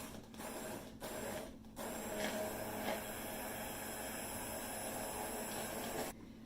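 A hand blender whirs continuously in a cup of very hot milk, whipping it into latte froth, with a steady mechanical buzz after a few brief starts.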